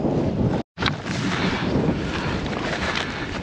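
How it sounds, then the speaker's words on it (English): Strong wind buffeting on an open hilltop, a loud continuous roar of gusts across the microphone with one brief dropout, no talk. "It's a wee bit windy up here"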